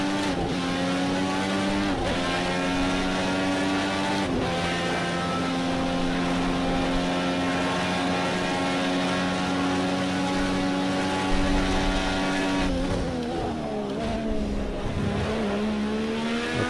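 A Dallara race car screams around a track at close range, its engine holding a loud, sustained tone that drops sharply on each downshift into corners and climbs again under acceleration, with no talking.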